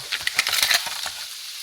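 Vegetables from a Costco Oriental stir fry hit a hot medium-sized wok, giving a quick burst of crackling and spitting that fades into a softer hiss within about a second.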